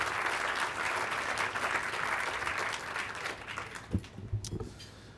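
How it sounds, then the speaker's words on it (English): Applause from an audience at a mayoral presidential inaugural speech, steady clapping at moderate distance that thins out toward the end, leaving a few scattered claps and knocks. "if we can just give him a round of applause for his leadership"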